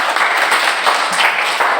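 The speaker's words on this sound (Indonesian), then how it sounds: "Kita berikan tepuk tangan dulu untuk kelompok 1 ya." A classroom of students claps for group 1, a loud, continuous wash of many hands beating together with no break across the short burst.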